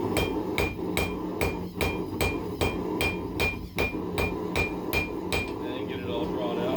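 A blacksmith's hammer rings steadily on hot steel at the anvil, drawing out a taper at a forge in cold weather. About fifteen sharp, evenly spaced strikes sound up close and loud, with no talking.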